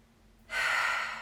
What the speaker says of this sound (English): One big final inhale together.